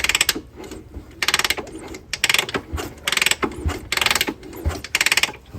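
The engine of a 1978 Honda CB400 barn-find motorcycle, unused for 44 years, turned over slowly by hand, close by: rhythmic bursts of ratcheting clicks with dull thumps as it builds compression, roughly one per second, no voices.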